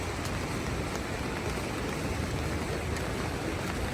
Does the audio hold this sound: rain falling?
yes